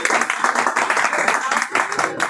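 A class of students claps together in a dense, steady burst of applause, with voices mixed in throughout.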